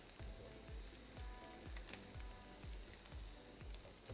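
Kebab ingredients with rosemary and chili flakes sauté in a pan, giving a soft background sizzle with a regular series of low thumps, roughly two per second, as the food is stirred or tossed, all fairly quiet.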